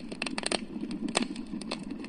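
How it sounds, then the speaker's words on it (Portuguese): Campfire crackling played through the speaker of a Bluetooth astronaut night lamp: irregular quick pops and snaps over a faint steady hiss, soft and close, with no talk. "Aqui é como se fosse uma fogueira."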